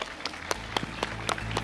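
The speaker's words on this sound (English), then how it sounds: "let's give these guys a big round of applause" Audience applause for panelists at the close of a tech conference morning session on HTML5, a steady bed of many hands clapping with sharper individual claps standing out, no talk over it.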